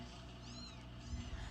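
A mother cat gives a soft, fairly quiet meow with a rising and falling pitch, heard close by over low background noise.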